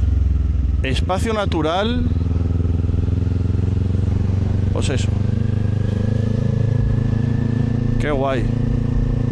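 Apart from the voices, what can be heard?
motorcycle riding on mountain road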